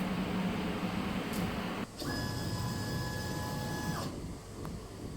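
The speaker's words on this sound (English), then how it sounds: "The laser head is go to the top right for the homing process." HL1060D 100W laser engraving and cutting machine head travelling to its home position, a steady motor whine with a brief pause and a higher stepper tone for about two seconds over a constant fan hum.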